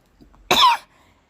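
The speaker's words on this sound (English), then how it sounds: "I think I'm coming up with a cough, so I'll be coughing here and there" A single sharp, loud cough from a person presenting in a lecture, brief and close, with near silence before and after.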